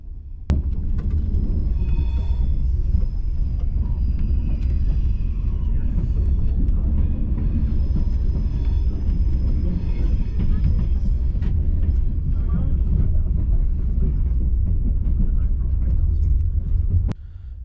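A TGV Duplex high-speed train pulls out of Paris on a late-running service to Marseille, heard from inside as a steady, loud low rumble with faint higher whines and occasional creaks throughout.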